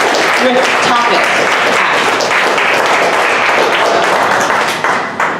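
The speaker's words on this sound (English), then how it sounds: "Get a round of applause." An audience claps and applauds steadily at a Dallas startup pitch event, a dense, loud wash of hand claps sustained for several seconds before tapering slightly at the end.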